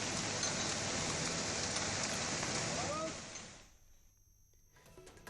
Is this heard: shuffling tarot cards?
no